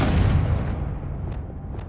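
A single loud, close boom from the Confringo explosive spell in the video game Hogwarts Legacy, dying away into a rumbling tail with faint crackles.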